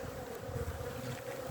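Disturbed honeybees buzz at an open hive, a continuous low droning hum with some wind noise, faint and steady without talk.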